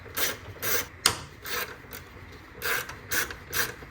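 Ratchet wrench clicking on 10 mm hex bolts holding the intake scoop of a Mazda 6 2.2 Skyactiv diesel, short close bursts of rapid clicks in an uneven rhythm.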